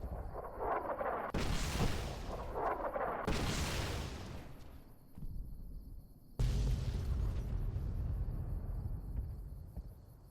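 Boomers' artillery fire from Fallout New Vegas lands in three heavy explosions, each a loud broadband blast with a rumbling tail, the second close after the first and the third after a short lull.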